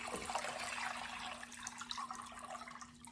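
Cold water runs from a tap into a pot for canning peaches, a splashing, gurgling stream that shifts in tone as the level rises and eases off toward the end.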